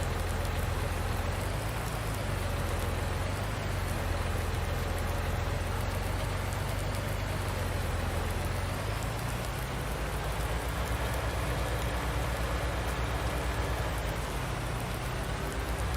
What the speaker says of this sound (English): It's actually raining outside in real life.